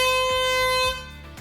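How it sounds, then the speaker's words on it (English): A construction site air horn sounds as an evacuation alarm, one loud, sustained, piercing blast that cuts off and trails away near the end, heard alone. "all Cook Brothers sites will sound an air horn with 3 sharp blasts to raise the alarm for evacuation"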